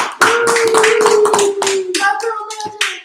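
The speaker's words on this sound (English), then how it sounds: "So let's give her the round of applause for." A small audience claps in a short, uneven burst of separate hand slaps after a guest is introduced, close and fairly loud, with a steady tone running beneath.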